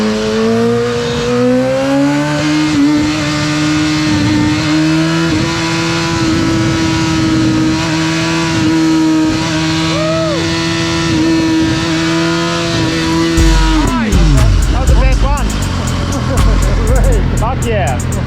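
BMW S1000RR sport motorcycle with a loud Akrapovic full exhaust system, held on a wheelie machine, droning at steady high revs before the throttle drops and the engine crackles down, with people talking and shouting throughout.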